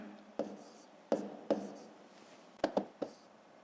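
A pen writing on paper during a fifth-grade maths exercise, heard as a run of soft scratchy strokes with several sharper taps and scrapes spaced irregularly, close and quiet with no voice over it.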